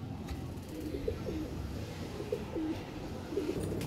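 Low, gentle pigeon coos repeat in short phrases close to the listener, over a steady hum of background noise.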